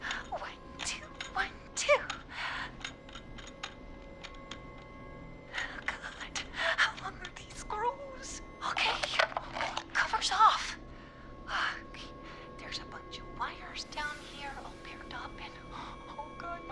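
Panicked, shaky breathing from a character in the horror game Killer Frequency, with rapid gasps and whispery breaths coming in uneven bursts, close and fairly quiet, amid faint background hum.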